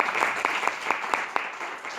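Applause from a church Bible-study congregation, a steady wash of many hands with a faintly regular clapping pulse, fairly close and continuing for the full two seconds with no talk.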